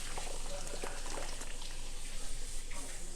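Noodles and liquid slosh and splatter into a baking dish, a continuous wet, bubbly pouring with soft clinks, fairly quiet and close.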